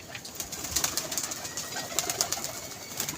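Pigeons at a pigeon club give a string of soft calls and flutters over light background noise, fairly faint and irregular, with no talk.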